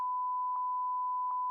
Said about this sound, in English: Just beep the whole thing out.